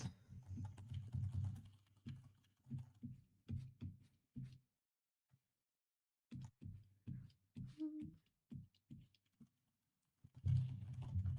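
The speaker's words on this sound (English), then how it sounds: "I was typing looking to the side and not looking at the screen" Quick bursts of soft, thumpy keystrokes on a computer keyboard, close and fairly quiet, broken by a pause of a couple of seconds before the typing resumes in short runs.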